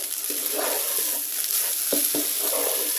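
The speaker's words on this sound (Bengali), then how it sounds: "এটা আমি ভালো করে তেলের মধ্যে মশলাগুলোর মধ্যে চালটাকে ভালো করে ভেজে নেব" Rice stirred and fried in hot oil with spices for egg biryani, giving a steady close sizzle with scraping stir strokes throughout, no voices.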